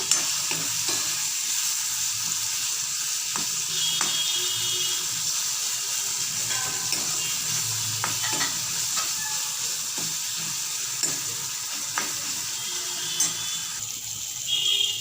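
Potato filling for dosa stirred steadily in a pan, soft scraping and light sizzle running continuously with occasional sharper clicks from the utensil, no voices.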